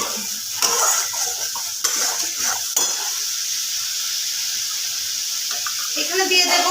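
Spice masala for a cauliflower and bhetki fish kalia fries in a pan with a constant close sizzle. Rapid stirring scrapes cluster in the first few seconds, then the frying hiss continues mostly alone.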